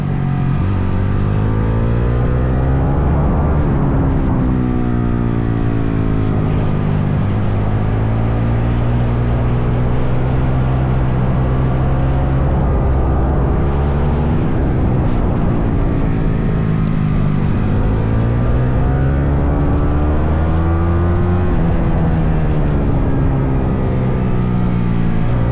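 Honda CRF 450 supermoto motorcycle lapping a large race track in Spain, its engine droning steadily and loud throughout, pitch rising and falling as the rider brakes early for corners and gets back on the throttle late.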